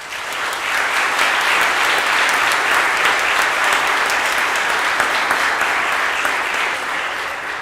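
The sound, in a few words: audience applause for the graduating class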